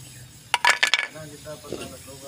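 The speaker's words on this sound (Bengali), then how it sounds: "দেখো এই যে মাছটাকে ঢেলে দিলাম" Fish is poured into a simmering curry, giving a brief cluster of wet splashes and a soft hiss, with a voice speaking around it.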